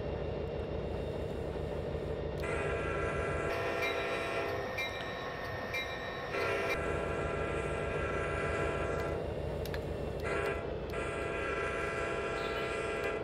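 Train rolling in Train Sim Classic on a Metra route near Northbrook, crossing a bumpy level crossing, with a steady loud rumble of wheels and engine and sustained horn tones sounding through much of the stretch.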